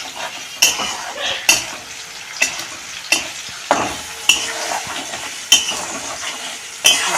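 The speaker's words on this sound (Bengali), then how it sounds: "পেঁয়াজ আর টমেটোটা আমার ভাজা হয়ে গেছে এবার আমি মশলাটা দিয়ে দেবো" Fried onion and tomato with spices stirred in a pan, steady sizzling broken by sharp, regular clinks of a spoon scraping the pan every second or so, close and loud.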